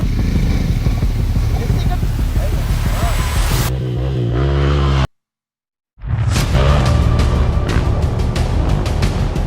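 KTM 390 Enduro R motorcycle engine riding off-road, a loud, close, steady engine drone with whooshing wind and clatter, a brief sudden cutout to silence midway, then the engine roaring again.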